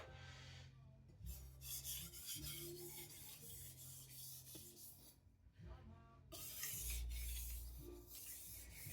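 A knife rubs back and forth on a Takayuki Shibata Bitey finisher sharpening stone under its own weight, a faint close rasping in repeated strokes with short pauses and no talking.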